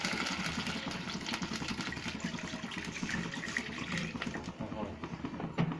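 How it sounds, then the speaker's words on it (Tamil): Water is poured into a kadai on the stove for village-style chilli chicken, a steady close splashing and running flow that continues throughout with small bubbling bursts. "தண்ணி ஊற்றிக்கோங்க."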